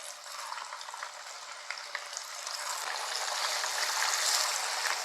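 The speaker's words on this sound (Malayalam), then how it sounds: "ഇതാണ്ട് എണ്ണ നന്നായിട്ട് ചൂടായി വന്നിട്ടുണ്ട് മീൻ അങ്ങോട്ട് പെറുക്കിയിട്ട് വറുത്ത് കോരിയെടുക്കാം" Fish dropped into hot oil for a fish pickle, frying with a steady bright sizzle and crackle that swells slightly louder toward the end, with no voices.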